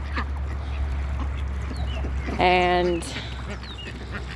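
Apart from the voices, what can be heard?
ducks quacking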